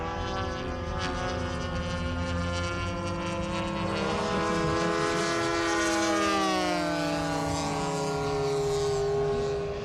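A big round-engine radial warbird airplane, 1,340 cubic inches and 650 horsepower, drones loudly and continuously with a deep harmonic roar that shifts pitch as it passes close by at an outdoor RC meet.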